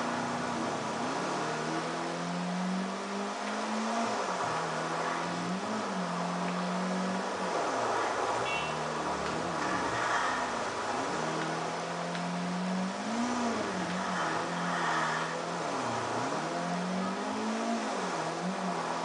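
Car engine in Grand Theft Auto IV, a steady mid-range drone of a driven car rising and falling as it revs and shifts, continuous and fairly close with no talk.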